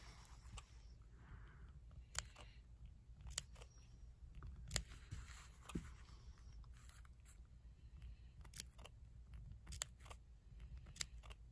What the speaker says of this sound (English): We're going to snip all around.